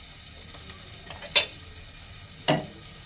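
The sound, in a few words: frying onion and garlic tempering for chicken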